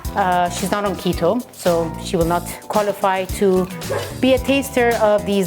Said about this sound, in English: You can excuse the little dog in the background.